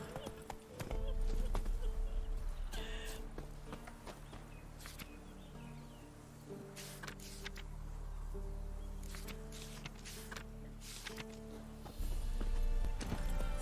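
A horse in The Witcher 3 gallops with rapid, continuous clip-clop hoofbeats, close and loud, and a brief whinny is heard along with rustling movement and game ambience.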